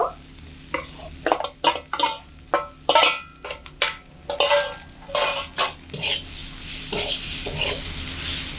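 Chickpeas and fried potatoes stir-fried in spice masala for ghugni: loud, rhythmic spatula scrapes and knocks against the pan over a faint sizzle, with no talking.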